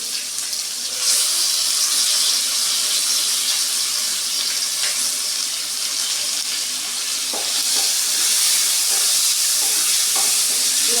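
Onions frying in a pan for a simple chicken curry, a loud continuous sizzle with crackling pops and occasional stirring scrapes, heard alone without talk.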